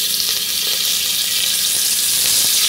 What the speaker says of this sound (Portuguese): Vou fritar a linguiça.